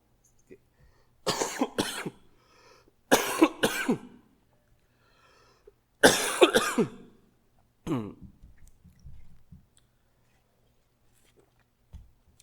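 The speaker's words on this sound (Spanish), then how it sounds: "Tengo 3 semanas con esta tos." Several harsh, close coughing fits from a three-week-old barking cough, separated by pauses, ending with a softer, throaty cough and faint clearing of the throat.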